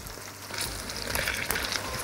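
Onions softening and turning translucent in butter give a steady, moderate sizzle with fine crackling, continuous and fairly close, with no talk over it.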